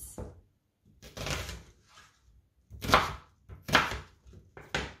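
A knife chops an onion into large chunks on a cutting board for a honey duck breast dish, giving several separate close, firm cuts spaced across the moment with quiet gaps between them.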